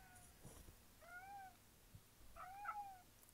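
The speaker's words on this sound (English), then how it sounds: "He's just meowing." A house cat meows twice in the room, two short, clear calls about a second apart, fairly close but not loud, over a quiet background with faint game sounds.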